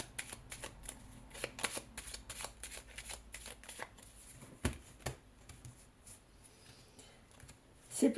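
Small paper Lenormand oracle cards are shuffled by hand close up, a quiet run of quick riffling flicks and soft slaps with brief pauses between bursts and a sharper tap at the end.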